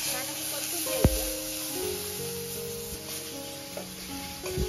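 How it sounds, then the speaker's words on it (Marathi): Green chilli, cumin and garlic paste sizzles in hot oil in a pan, a steady bright crackle with a sharp clink of a utensil near the start and faint stirring, while a voice talks over it. "आता तेल ऍड केल्याच्या नंतर इथं लगेच हिरवी मिरची, जिरे आणि लसणाचं वाटण छान असं परतून घ्यायचं"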